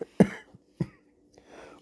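A voice imitates coughing in two sharp, separate bursts, followed by a soft, breathy trailing sound, close and fairly loud with no talking.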